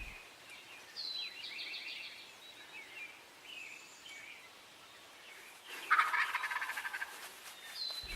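Wild turkeys gobble from the roost at dawn during an Illinois spring hunt, several loud rattling gobbles breaking out over chirping songbirds, with the strongest burst close by near the end.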